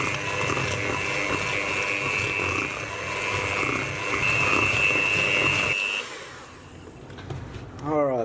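Steady whirring hum of an electric mixer at low speed beating green buttercream for Christmas macarons, continuous and close for about six seconds, then cutting off near the end.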